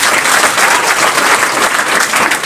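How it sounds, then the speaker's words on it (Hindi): Loud, dense applause from a crowd at a school matriculation results celebration, a continuous wash of clapping close up with no pauses. "ताली बजाइए एक बार"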